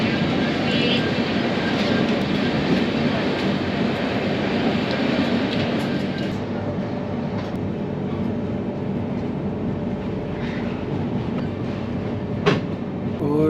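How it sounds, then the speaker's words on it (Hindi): Hazrat Nizamuddin to Secunderabad Express passing close by, a loud steady roar and rumble of rolling coaches that holds for the whole stretch, easing slightly partway through. "और ये ट्रेन है भाई हजरत निजामुद्दीन टू सिकंदराबाद एक्सप्रेस।"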